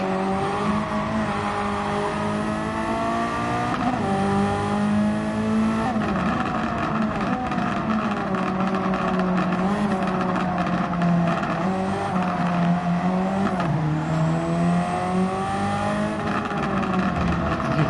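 Race car engine in Gran Turismo 7, loud and continuous, with the pitch rising through each gear and dropping at the shifts, holding a steady high drone throughout.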